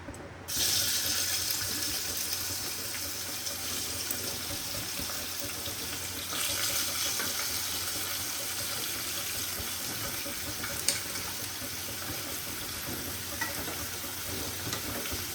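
Ash gourd fries in a grill pan over high flame, giving a steady, dense sizzle that runs throughout, swelling louder around the middle, with a sharp clink near the end and no talking.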